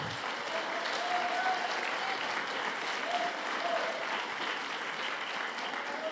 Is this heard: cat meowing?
no